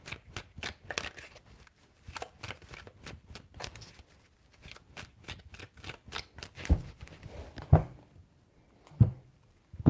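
Tarot cards are shuffled by hand in quick, crisp riffling bursts that repeat rhythmically up close, thinning into a few sharp taps and slaps near the end.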